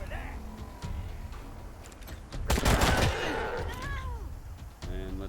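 Gunfire in the video game Wasteland 3: a loud, dense burst of shots in the middle, with quieter game sounds and speech around it.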